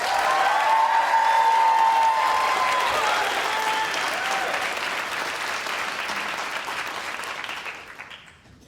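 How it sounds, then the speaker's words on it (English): A theater audience at a storytelling show in Seattle claps and cheers loudly and steadily, with whoops over the applause, gradually fading out toward the end. "makes so much noise and shows so much love."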